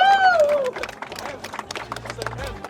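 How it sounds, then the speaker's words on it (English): A crowd claps and cheers for a winner at a charity car event, with a whistle-like tone fading at the start and a busy patter of applause mixed with voices throughout. "Round of applause!"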